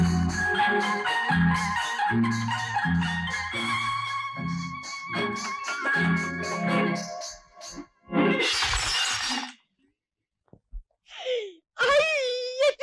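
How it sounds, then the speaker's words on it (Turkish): Music plays, then a sudden crash of window glass shattering from thrown stones bursts out, followed by high, wailing cries. "camımı, çerçevemi taşlıyorlar"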